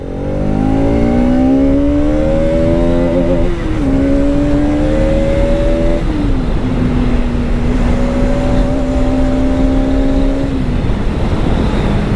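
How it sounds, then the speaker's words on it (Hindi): A 2021 Bajaj Pulsar RS 200 motorcycle engine revs up and holds, its deep exhaust note rising in pitch, dropping, then climbing again in long, loud, close pulls. "The way this motorcycle growls and the exhaust note"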